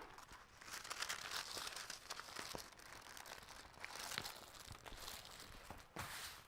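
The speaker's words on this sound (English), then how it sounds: "Remove the vinyl from the package, unfold, and lay flat to relax creases." Vinyl sheeting is pulled from its package and unfolded with quiet, continuous crinkling and crackling and a few sharper snaps.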